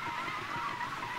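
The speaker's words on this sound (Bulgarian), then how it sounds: "Малко си прегорих гумите аз" A Porsche Turbo's tires spin and squeal in Need for Speed 2015, a loud, sustained screech of rubber on tarmac that holds without a break, with no talk over it.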